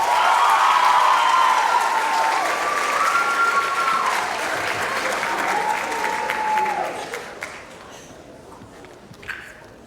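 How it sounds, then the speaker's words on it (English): An audience at a sports awards ceremony applauds, with loud sustained clapping and some cheering and whistles that taper off toward the end, leaving a few scattered claps. "Round of applause for our 3 most promising"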